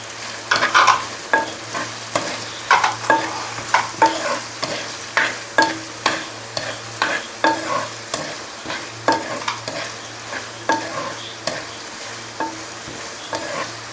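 Green chillies sauté in a hot pan while a spoon stirs them steadily, a soft sizzle broken by regular scraping strokes that repeat roughly every half second.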